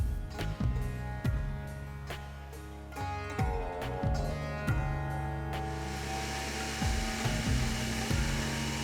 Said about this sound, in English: Add lemon juice, olive oil, garlic, coriander and mint to the mixer pitcher.